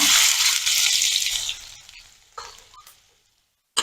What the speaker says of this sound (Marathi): कांदा आपल्याला व्यवस्थित परतवून घ्यायचा आहे